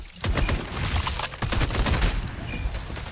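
Rapid gunfire from the FragPunk video game, with dense bursts of shots cracking in quick succession throughout, loud and close with no talk.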